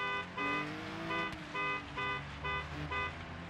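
A vehicle horn on a dirt road sounds in a series of short, steady toots with brief gaps, fairly close and unaccompanied by talk.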